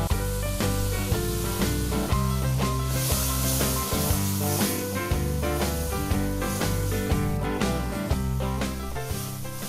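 Spice paste fries in a pan for a stir-fried green beans and shrimp dish, with a loud, steady sizzle and hiss after water is added.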